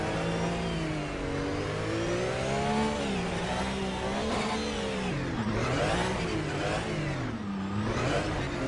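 A race car engine in a racing video game revs steadily, its pitch rising and dipping in continuous waves as it climbs back up, loud and close with no voices over it.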